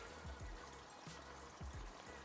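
Water runs and trickles inside a washing machine, a steady pouring flow with a few low knocks, faint and uninterrupted, with no one speaking.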